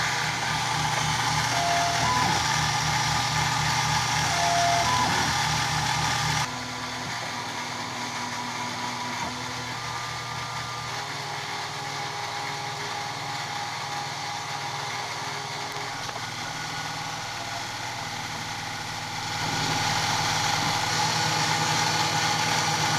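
A CNC mill makes a clean-up pass on a custom aluminium emblem for an SW20 MR2, giving a continuous whirring spindle hum with shifting tones, louder at the start and end and quieter in the middle, with no talking.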